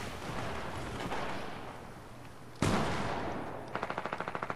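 Rapid video game gunfire in a squad shooter match, with a sharp heavy shot midway followed by a fast, evenly spaced automatic burst near the end over a steady background roar.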